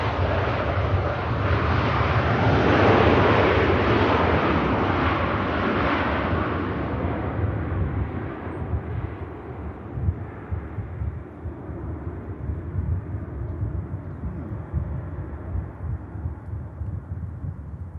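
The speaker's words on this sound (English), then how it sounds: "getting the aircraft down really nicely" Airliner landing at Manchester Airport, a broad jet roar swelling loud and steady before fading to a lower, rumbling drone as it rolls out, heard from a distance with no voices.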